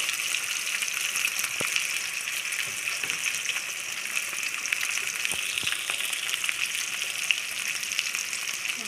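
Plantains and potatoes fry in a wok for a vegetarian curry, giving a steady, loud, close sizzle with crackling pops throughout and no talk.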